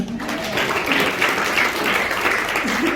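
A church congregation applauds in thanksgiving to God, a loud, even wash of clapping sustained throughout.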